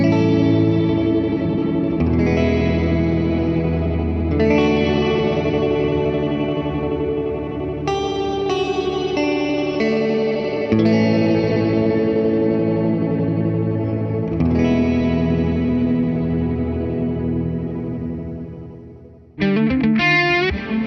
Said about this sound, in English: you can get almost like this kind of Leslie organ-esque sound